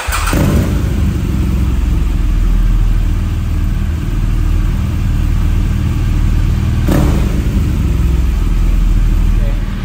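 A BMW R motorcycle engine runs close by at a loud, steady idle as it warms up, with a deep, continuous rumble that changes little across the stretch.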